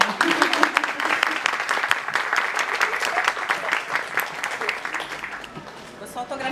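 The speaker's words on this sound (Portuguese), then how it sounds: "uma salva de palmas para ela" Audience at a book talk with author Lauren Blakely in Rio de Janeiro giving a warm round of applause, dense clapping that holds steady for several seconds, then thins out with a few voices at the end.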